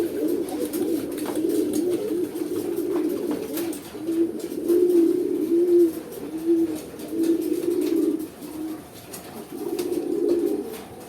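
A pigeon coos close by in repeated low, rolling phrases, several bursts in a row with short gaps between them, over a faint background hiss and no talking.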